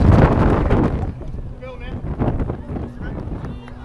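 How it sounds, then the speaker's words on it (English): A strong gust of wind buffets the microphone outdoors at a high school baseball game, a loud low rumble that is heaviest in the first second, then eases into steady blustery noise under faint crowd and field sounds. "A huge gust of wind"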